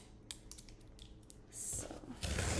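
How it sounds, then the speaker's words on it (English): Pink scissors snip and slice open a shipping package holding kitchenware, a series of close, crisp cuts and rustles that grow louder toward the end, with no talking. "I have my pink scissors here to open up the package."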